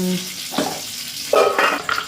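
Oil heating in a pan for Sri Lankan-style sothi, giving short bursts of sizzle and stirring clatter, close and moderately loud, with no talk.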